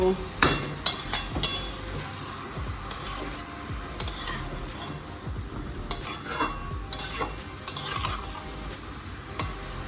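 Corn and mushrooms stirred in a pan for street-style vegetable chowmein, a series of sharp metal spatula clinks and scrapes against the pan, irregular and close, over a low background hum.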